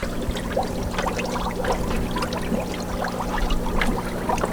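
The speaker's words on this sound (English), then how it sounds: "So the bubbler will continuously go." A fish tank air bubbler rated for 100 gallons aerates a bucket of compost tea, making a continuous close bubbling and gurgling with rapid, irregular pops.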